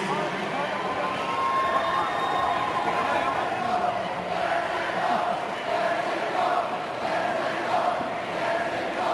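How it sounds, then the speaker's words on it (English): High school football fans roaring in the stands at a state 2A semifinal between Capital and Lynden, a dense sustained crowd cheer with shouts rising and falling across the whole stretch. "Look at the Lions fans, already something to cheer about."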